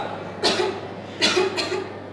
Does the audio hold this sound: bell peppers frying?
no